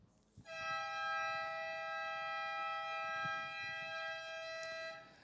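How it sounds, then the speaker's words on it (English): A civil defense-style siren sounds the end of a heat in the final of a longboard surfing contest at Clearwater, holding one loud, steady multi-tone blast for about five seconds before cutting off. "Listen out for the siren now, fellas"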